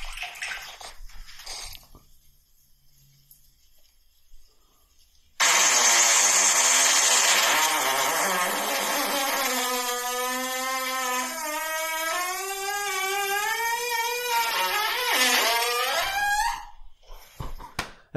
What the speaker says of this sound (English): A normal, like a good fart would be 5 seconds less than that.